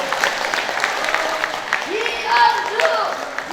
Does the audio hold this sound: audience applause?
yes